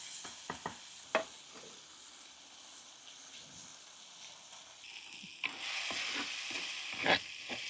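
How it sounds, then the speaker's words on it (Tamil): Tomatoes fry in oil for an egg curry, giving a steady soft sizzle with a few sharp stirring clatters early on, then a louder, brighter hiss of frying near the end, with no talking. "தக்காளி பழம் நல்ல எண்ணெயில் அப்படியே வதங்கட்டும்."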